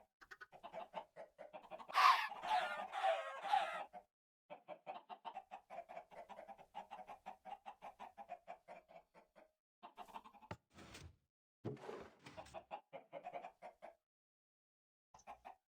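Minecraft chickens cluck repeatedly from an automatic chicken farm, a continuous run of short clucks with one louder burst, brief gaps, and a couple of sharp clicks near the end; no talking.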